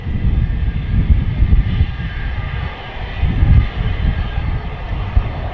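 Ryanair airliner at Manchester airport, a steady low engine rumble and drone heard from a distance, with gentle surges in loudness and no talking.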